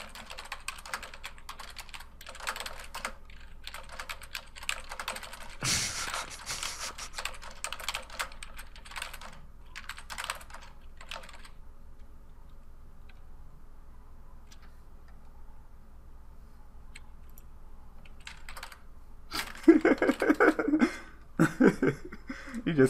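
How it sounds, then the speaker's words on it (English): Computer keyboard typing during an online game session, quick irregular clacking bursts at close range, pausing midway then returning in a busier flurry toward the end, with no talk over it. "No, hold on. I'm typing."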